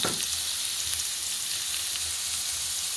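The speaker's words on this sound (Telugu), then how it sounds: "చూడండి, ఆనియన్స్ ఫ్రై అవుతున్నాయి కదా" Onions fry in hot oil for a curry, giving a dense, steady sizzle that hisses continuously at close range with no pauses and no voices.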